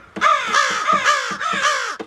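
Crows in transport cages caw loudly and close, four harsh calls in quick succession with short gaps between them.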